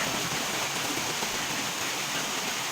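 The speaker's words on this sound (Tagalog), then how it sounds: "Malakas ang ulan ngayon." Heavy rain falls steadily in an outdoor setting, a dense, even hiss of downpour that holds constant throughout with no voices over it.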